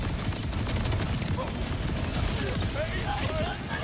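Enemy rockets firing and exploding in Borderlands 4, a dense rumble of blasts and gunfire continuing through the scene with someone talking over it.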